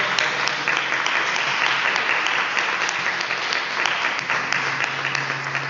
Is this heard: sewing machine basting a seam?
no